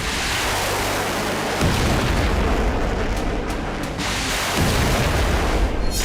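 Ballistic missiles destroyed in mid-air, heard as deep rumbling booms over a dense, roaring noise, with two heavier low thuds a few seconds apart.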